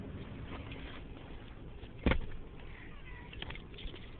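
A cat lets out a single short meow about midway through, faint against steady background hiss, with no one talking.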